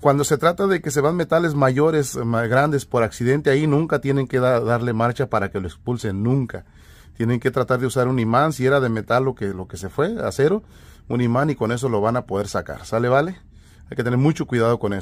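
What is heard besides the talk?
No distinct noise like a dog, phone or traffic.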